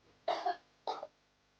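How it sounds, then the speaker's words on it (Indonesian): Two separate coughs, the first a double burst and the second shorter, close and fairly loud with quiet in between. "Batuk-batuk."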